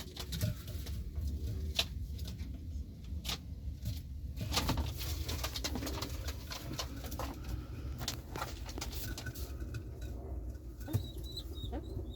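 Play pigeons in a coop, with soft cooing and occasional wing flaps and light shuffling, close by and fairly quiet, and no talk.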